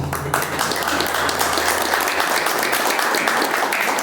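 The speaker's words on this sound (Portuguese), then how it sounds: "Cadê as palmas?" After an entrepreneurship talk ends, the audience claps in a dense, sustained burst that fills the room evenly from start to finish.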